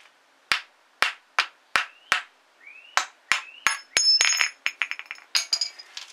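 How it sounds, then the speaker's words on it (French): A wooden screwdriver gives a series of light, sharp taps on an engine cover during engine top-end disassembly. About a dozen close, crisp knocks come in an uneven rhythm, then a quicker cluster of clinking hits. "Donc avec le tournevis en bois pour pas abîmer, je vais donner des petits coups."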